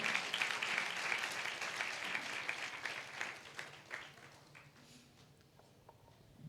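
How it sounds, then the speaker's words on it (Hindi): A church congregation at a Thursday online prayer service claps their hands in thanks to God, a dense patter of applause that swells loudly and then gradually thins out and fades. "ताली बजा के परमेश्वर का धन्यवाद दें।"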